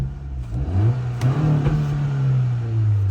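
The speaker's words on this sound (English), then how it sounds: "Let's do a few revs and see what it sounds like." A 2023 Acura Integra engine revs up from idle toward its 4,500 RPM limiter, its pitch climbing and holding at a steady high drone, with a few brief clatters partway through.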